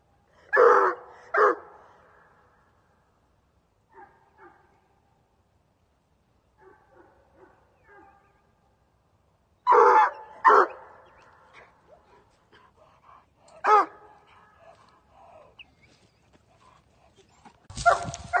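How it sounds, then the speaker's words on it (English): A coonhound barks during a night hunt, scattered loud barks and yips in small clusters separated by long quiet stretches, some calls sharp and close, others fainter and briefer. "I was hoping she'd bark"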